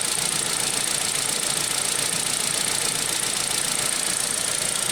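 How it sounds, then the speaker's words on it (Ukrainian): A Renault Megane 3 engine, with antifreeze leaking into the oil, idles close by, a continuous low hum with a faint rough knocking running through it and no voices. "Так, запустив двигунчик"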